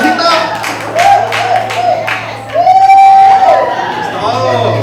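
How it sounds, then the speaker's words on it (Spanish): A church congregation applauds during a Spanish-language service, a crowd's clapping and cheering mixed with a loud voice talking over it and a steady low hum throughout. "¡Aplauso, Josecito!"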